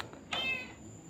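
A single high, thin kitten meow, close and clear, lasting under a second against quiet background noise.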